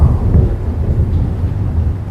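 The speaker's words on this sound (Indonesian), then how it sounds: "Pada dengar petir semua?" A deep, loud roll of thunder rumbles steadily for a couple of seconds with no voices.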